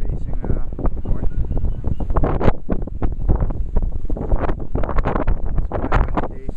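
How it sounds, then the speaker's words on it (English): Strong wind buffets the microphone in loud, continuous gusts, roaring and rumbling without a break, at the Turó del Carmel hilltop viewpoint. "It's quite a windy day"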